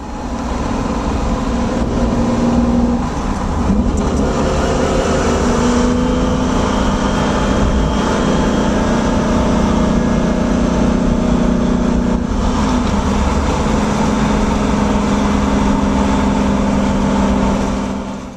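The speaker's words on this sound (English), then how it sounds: "The engine is a 4-liter twin overhead cam 60-degree V12" A Lamborghini Espada's 4-liter twin overhead cam 60-degree V12 runs steadily at a smooth, throaty idle, a continuous low drone with no voices, close and loud throughout.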